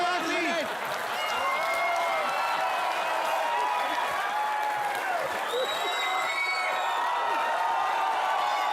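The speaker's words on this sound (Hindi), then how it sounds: "तू क्या ताली बजा रहा है?" A live comedy-show studio audience claps and cheers in a loud, steady wash of applause with scattered whoops, sustained throughout.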